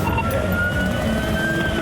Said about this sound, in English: sirens on and lights flashing